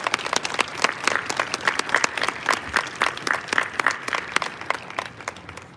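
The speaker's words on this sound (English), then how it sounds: "let's give a round of applause to Lieutenant General Max Noah and his family" A crowd at a military honors parade applauds Lieutenant General Max Noah and his family, dense overlapping clapping that holds steady and fades slightly at the end.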